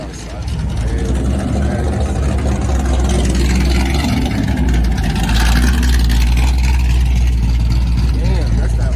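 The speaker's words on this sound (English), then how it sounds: "Damn, that's that Oldsmobile." An Oldsmobile with side exhaust rumbles loudly and steadily at a Minnesota car meet, a deep, close engine drone holding throughout under crowd chatter.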